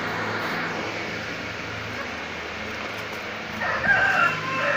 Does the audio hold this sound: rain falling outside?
no